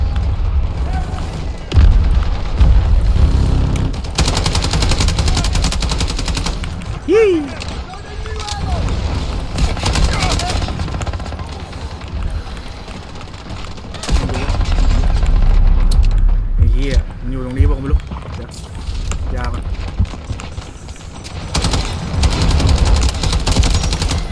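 Booming explosions and bursts of rapid gunfire from the game Delta Force play loudly and repeatedly, mixed with someone talking excitedly in Thai over the action.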